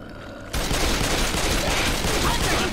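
Dense, continuous gunfire in Left 4 Dead erupts abruptly after a quiet half-second and then rattles on at a steady, loud level with no letup.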